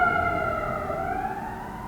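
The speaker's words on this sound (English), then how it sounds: "Hold on, we got some sirens coming." A siren wails steadily with rising and falling harmonic tones, loud and close as an emergency vehicle goes by, with a low rumble of traffic underneath.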